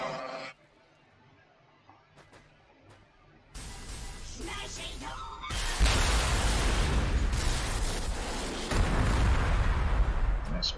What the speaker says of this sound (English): Okay, there is artillery back there.